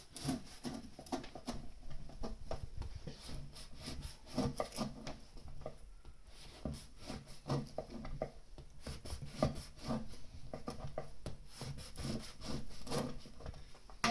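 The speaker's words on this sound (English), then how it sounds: "ciabatta bread. You just have to cut in tiny slices, not too tiny, but maybe like this." Knife sawing through a crusty ciabatta loaf into slices, a steady rasping back-and-forth cutting rhythm that runs close and continuous throughout without talk.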